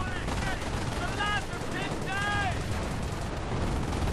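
Machine gun fire from a tank-era battle in the video game OMGmod, a continuous loud wash of gunfire and battlefield rumble with a few whistling tones rising and falling over it.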